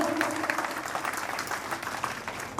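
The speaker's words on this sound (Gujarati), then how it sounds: "તાળીઓથી ગણગણાટ આપણે કરીશું" An audience clapping at a Nav Chandi Yagna gathering at Raghukul Bungalows in Kadi, a dense, steady round of applause heard without speech.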